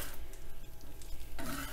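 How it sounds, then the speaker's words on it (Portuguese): Brioche dough with melting butter being worked by hand and a spatula, giving a soft, wet, sticky squelching and scraping that keeps going steadily at close range without talk. "Misturamos com a mão esquerda e apoiamos com a mão direita junto com a espátula."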